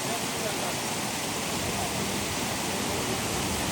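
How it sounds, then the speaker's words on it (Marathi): A waterfall in Wales pours water into a small pond, a loud continuous roaring wash of falling water heard close by and unbroken throughout. "त्या ठिकाणी पण धबधब्याने पाणी येत आहे वरनं."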